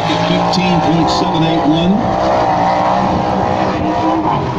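A sprint car roars through a solo time trial lap at 81 Speedway, its engine note rising and falling steadily under a race announcer's commentary.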